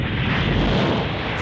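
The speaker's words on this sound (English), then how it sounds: "Full explosion." A massive explosion from the anime Yu Yu Hakusho erupts as a dense, roaring blast that fills the whole moment at full volume, with no speech over it.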